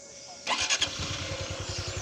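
A motorcycle engine cranks briefly and fires up, settling into a quick, steady putter close by.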